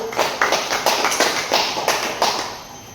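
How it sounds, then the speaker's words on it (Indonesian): Several sharp, evenly spaced claps ring out in a steady rhythm as classroom applause, fairly close and moderately loud, with no voices. "Beri tepuk tangan dulu untuk kalian yang sudah tahu"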